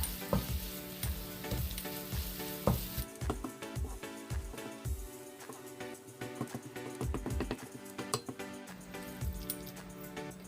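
Two eggs being stirred in a frying pan for a Kerala-style egg roast, with a steady sizzle and repeated scraping and clinking strokes of the spoon against the pan, close and clear with no talk.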